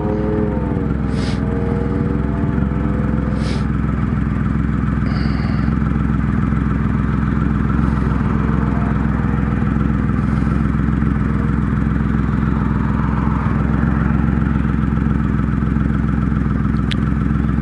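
Triumph Rocket III motorcycle engine held at wide open throttle, a loud, steady, deep roar that rises in pitch early on and then drones on continuously for the whole stretch.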